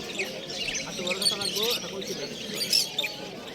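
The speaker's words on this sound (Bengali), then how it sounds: "লাভ বার্ড এখানে দেখেন কত সুন্দর সুন্দর পাখিগুলো" Caged lovebirds and other birds at a bustling market chirp in bright, rapid high notes, mixed with nearby voices talking over the chatter.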